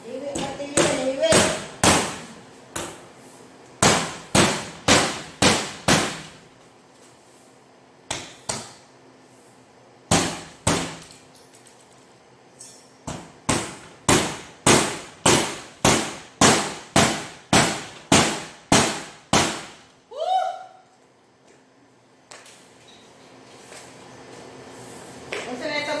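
A hammer strikes repeatedly in sharp, loud blows arriving in quick rhythmic bursts with short pauses between series, and a brief voice partway through.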